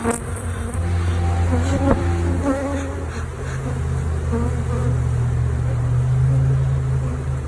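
Bees swarm around a smoked hive in a dense, continuous buzz, loud and close, with individual insects droning past over a low steady hum.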